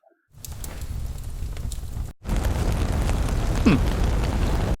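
Fire layer for a sound effect: a low roaring rumble of flames after a brief quiet start, cut by a short gap, then a fuller crackling roar with a brief whistling pop near the end.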